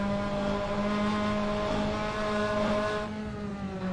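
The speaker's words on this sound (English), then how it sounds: "there was another battle there between myself versus Chris McCain in the white Audi" Touring race cars battling closely on a British Touring Car Championship circuit, one a white Audi, engines droning steadily and loud with harmonic whine throughout, shifting pitch as they jostle, no voices.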